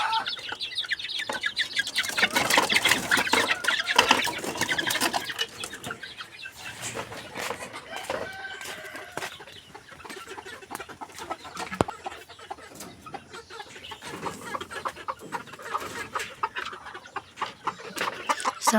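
Brooding hens clucking steadily and close by, with busy overlapping clucks and occasional wing flutters throughout, no talking.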